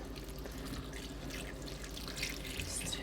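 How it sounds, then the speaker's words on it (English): After houseplants are watered, water drains through a sink with a soft, continuous trickle and scattered small drips, faint and close by, with no voices. "I can hear the water draining through the sink."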